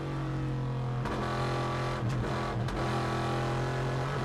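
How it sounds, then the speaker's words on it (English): A GT1 race car engine roars close and loud through the short final sector of qualifying in Beijing, a sustained harmonic drone with brief dips as the throttle is worked. "Listen to the engine note through this one."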